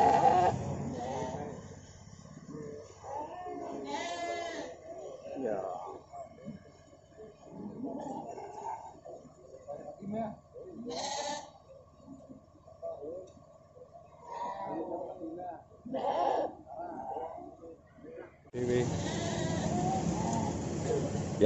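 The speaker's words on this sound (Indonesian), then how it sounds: "Ini dari domba tokol pejantan." Male sheep bleat at an animal market, several loud, wavering cries close by spread across the scene, with people talking in between and background crowd noise.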